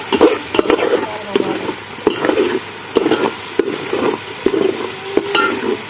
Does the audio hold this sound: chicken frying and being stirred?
yes